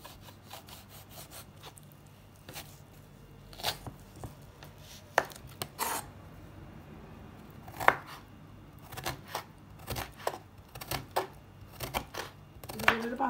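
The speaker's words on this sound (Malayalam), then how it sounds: "ഈ നാരങ്ങയുടെ അല്ലിയും ഈ തൊലി കൂടി നമുക്ക് മുറിച്ച് മുറിച്ചെടുക്കാം" A knife chops curry lemon with its peel into small pieces on a board, giving irregular, close, crisp cutting strikes over a soft steady background, with no talk.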